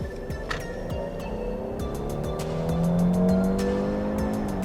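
A Mercedes-Benz S450 sedan accelerating hard along an empty road, its engine note rising steadily and droning close by with tire and road noise, no voices.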